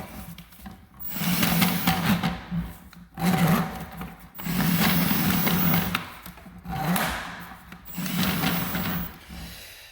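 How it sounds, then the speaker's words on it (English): A drill-driven drain snake whirs and scrapes in repeated surges inside a drain pipe, its motor rising and falling as the cable is pulled back and forth, close by. "I will hit the trigger on the drill, and then I will pull the entire cable back and forth"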